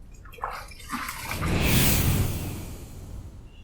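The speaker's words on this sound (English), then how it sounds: "Let's rinse." Water splashing and running as a face is rinsed after shaving, a swell of wet swishing that peaks midway and then fades to a soft trickle, close and alone.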